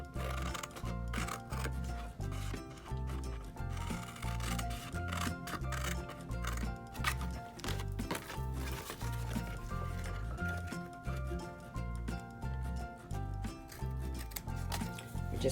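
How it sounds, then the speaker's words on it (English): Scissors snip through paper for a face mask holder in repeated crisp cuts, close and fairly quiet, over a steady soft musical background. "take my scissors and I'm going to cut up to this middle section"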